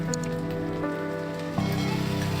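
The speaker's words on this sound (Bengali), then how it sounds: "এগুলোকে আমি ভালোভাবে ভেজে নিব আলু ডাটাটাকে আমার ভেজে নেওয়া হয়ে আসছে" Potatoes and vegetable stems fry in a pan, giving a steady, close sizzle and crackle like rain on a surface, with a low hum beneath that steps slightly louder partway through.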